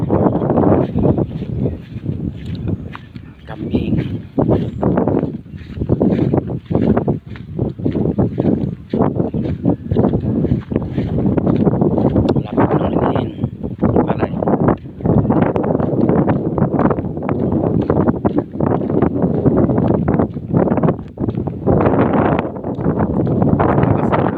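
Strong wind buffets the microphone in heavy, continuous gusts, a loud roaring rush with uneven surges and no clear voices.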